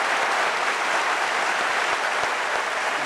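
Sustained applause from a comedy-show audience voting by clapping fills the room, a thick continuous patter of many hands at steady loudness with a few sharper individual claps standing out near the end.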